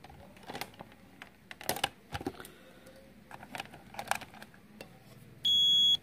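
Clicking and tapping of multimeter probes on metal while testing a glow plug timer unit from an L300 diesel, then a steady continuity buzzer beep sounds for about half a second at the end.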